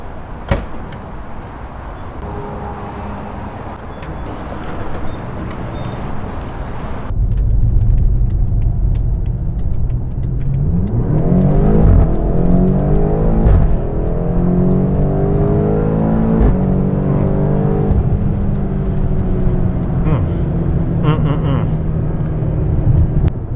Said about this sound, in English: Did you guys hear that pop under the bridge when that X5 shifted up?